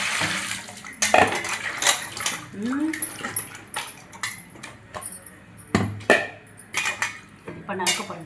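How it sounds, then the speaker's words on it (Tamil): Water poured as metal kitchen vessels are rinsed and scrubbed, with splashes, clattering and intermittent clanks, and a voice speaking in between. "தண்ணி ஊற்றி கழுவும்."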